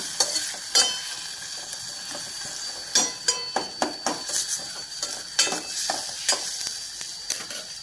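Utensil scraping and stirring a spice mixture with jaggery for bitter gourd tamarind curry in a pan, steady sizzle underneath, irregular clinks and scrapes close by, no voices.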